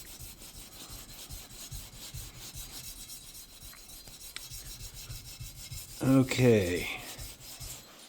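Soft, continuous rubbing of 1000 grit sandpaper polishing a guitar part, a faint steady rasp with a brief louder scrape near the end and a short spoken word.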